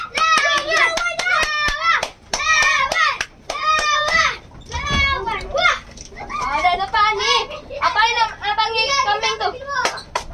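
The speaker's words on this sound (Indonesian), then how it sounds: "Tepuk tangan." Children clapping their hands, a run of sharp close claps in loose rhythm while kids' voices chatter and sing loudly over them nearly throughout.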